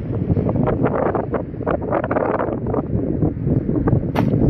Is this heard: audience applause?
no